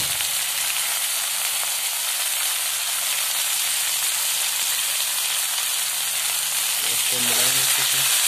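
Ginger garlic paste fries with onions and tomatoes in a pan, giving a loud, continuous close-up sizzle and hiss, with a voice briefly starting to speak near the end.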